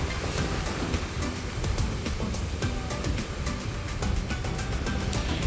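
Ocean surf breaking on Banli Beach in NTT, Indonesia, a steady washing roar with repeated splashy bursts of breaking water, close and loud, with no voices.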